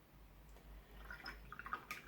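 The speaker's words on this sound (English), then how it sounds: "Clean my brush." A paintbrush loaded with thick cerulean blue paint is rinsed in a pot of water, giving faint, close little splashes and drips that pick up toward the end over a low background hum.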